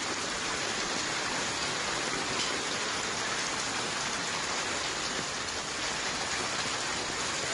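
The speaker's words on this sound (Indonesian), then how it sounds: "butiran batu es juga turun bersama derasnya air hujan" Heavy rain pours down with hailstones in Pasar Rebo, East Jakarta, a dense, unbroken roar of water and pelting ice that stays loud and constant throughout, with no voices.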